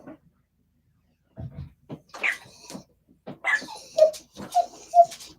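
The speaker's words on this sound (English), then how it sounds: "Seeing if my dog's gonna say hi or not." A female dog vocalizes near a quiet indoor space with a few short, soft whines and yips, scattered over several seconds with pauses between them.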